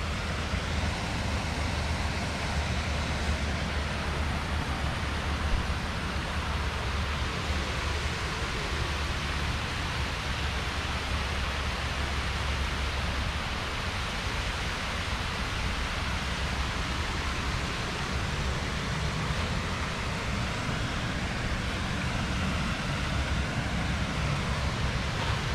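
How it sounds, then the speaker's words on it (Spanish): Waterfall at Frederik Meijer Gardens, a continuous broad rushing roar that holds steady and fairly strong throughout, with no voices. "Esta es otra vista de la cascada."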